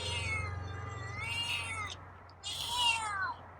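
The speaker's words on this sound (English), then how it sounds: "Got a meow tonight." A feral cat meows in a few drawn-out, wavering calls, the last one louder, heard close by over a steady low hum.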